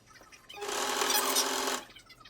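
Serger stitching the inner leg seam of a pair of pants, one close, steady burst of fast mechanical whirring lasting just over a second, with quiet handling before and after.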